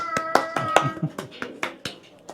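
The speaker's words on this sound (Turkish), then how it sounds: "Alkışlıyor arkadan." Someone claps from behind during a relaxed gathering with a saz player, producing a short run of distinct, fairly close handclaps while voices talk over them.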